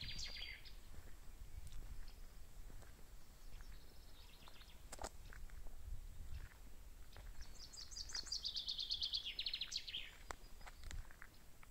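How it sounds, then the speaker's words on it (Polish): Birds sing quietly outdoors near the Polish-Belarusian border, with a few scattered chirps and a brighter trilling phrase toward the end, all faint over soft background noise and occasional footsteps. "Ptaszki śpiewają cichutko."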